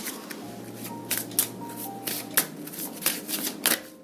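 Tarot cards are shuffled by hand in repeated quick riffling bursts, crisp and close, with a faint low hum in the background and no talk.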